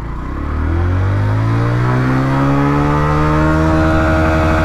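Honda Livo 110cc motorcycle pulling away in first gear, a loud close engine note rising steadily in pitch as it revs up and holds high.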